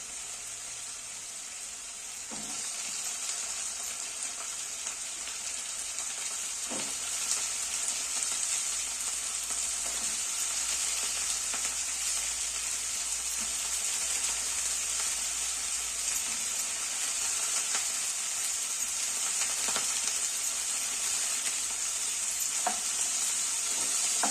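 Cauliflower pieces frying in a pan for a cauliflower bhaji, a steady close hiss of sizzling oil running throughout, broken by occasional soft stirring scrapes and clicks, no talking.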